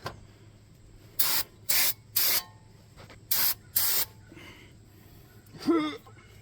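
Five short aerosol brake cleaner bursts onto the front brake parts of a 2013 GMC Terrain, loud and close, each about half a second, separated by brief pauses, followed by a faint squeak.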